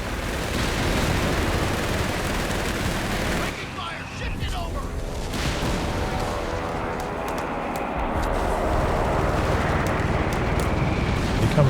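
Carpet bombing pounds the battlefield in the World War II strategy game Company of Heroes 3, with dense, continuous heavy explosions and rumbling blasts that stay loud throughout.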